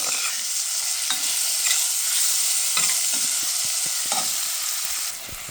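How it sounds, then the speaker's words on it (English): Cubed yuca with sazon spices fries in a pan, a bright continuous sizzle with a series of spoon-scraping stirs close by; no speech. "And give that a stir"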